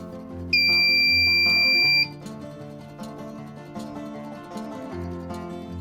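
A steady Arduino buzzer beep holds for about a second and a half, a bright piercing tone sitting over background music.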